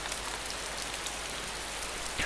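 Rain falling in the video game DayZ, a dense, even hiss of drops on surfaces that holds steady throughout, with no voices.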